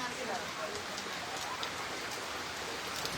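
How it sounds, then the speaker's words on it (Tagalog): Heavy rain pours steadily in Thailand, a dense continuous hiss of drops hitting surfaces nearby, with voices faintly mixed in. "Lakas ng ulan dito."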